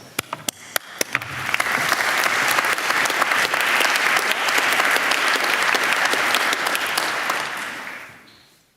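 Graduation ceremony audience breaks into sustained, loud applause: a few separate claps at first, then a dense, steady wash of clapping from a large crowd lasting several seconds before fading out.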